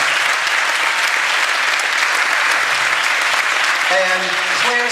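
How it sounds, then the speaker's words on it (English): An audience at a jazz camp performance breaks into dense, sustained applause that fills the whole stretch, loud and close, with a brief tonal sound rising near the end. "So can we have a round of applause for the Rotary Club?"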